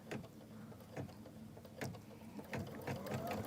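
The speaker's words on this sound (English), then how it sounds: "now I go ahead and begin stitching" A sewing machine stitching a project bag in a quilting tutorial, with quick mechanical needle thumps and a soft whirring motor. The sound is fairly faint and close, with a few separate bursts of stitching.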